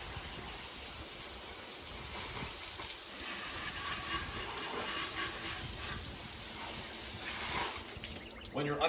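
A steady spray of water hisses beneath a C230 car. The broad, even rush continues throughout and swells a little near the end, with faint voices in the background.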